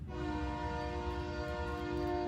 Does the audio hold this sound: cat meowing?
no